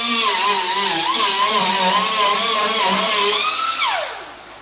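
A power tool grinding Bondo and fiberglass out of a Honda Del Sol body in a shop gives a loud, high whine that wavers in pitch, then winds down as the tool stops.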